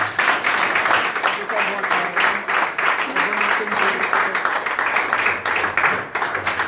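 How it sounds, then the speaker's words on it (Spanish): At a film festival colloquium, an audience gives a guest filmmaker a strong round of applause, with loud, rhythmic, sustained clapping and voices faintly mixed in. "pido un forte aplauso para ela."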